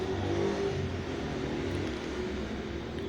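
A motorcycle passing by on a road, its mid-pitched engine droning steadily and close for about three seconds with no speech.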